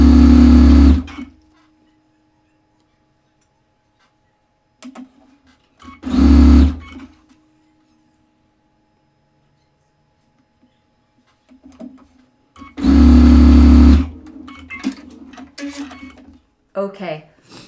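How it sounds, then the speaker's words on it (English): A sewing machine stitches rows of fabric in three loud close bursts of rapid whirring, about one to two seconds each, separated by near silence with faint handling sounds. "on this next trip to the sewing machine, we are going to go ahead and finish these rows"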